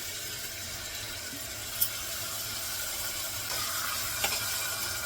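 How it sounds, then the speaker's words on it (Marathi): Washed rice frying in a ghee tempering for khichdi, a steady even sizzle close up with a couple of faint clicks from stirring. "फोडणीमध्ये थोडेसे तांदूळ परतून घ्यायचे जरा"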